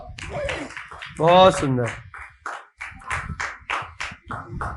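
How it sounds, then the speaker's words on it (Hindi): Children in an English class at a gurukul in Shahada, Maharashtra clap for a guest, a short burst of quick hand claps mixed in among spoken voices. "भैया जी के लिए तालियां बजाओ"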